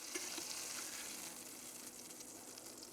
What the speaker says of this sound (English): saute it just a little and then take it out again